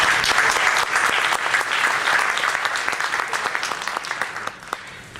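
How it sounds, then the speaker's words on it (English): An audience applauds a project team member after a presentation, with dense sustained clapping that thins into scattered claps toward the end. "So let's give her a round of applause."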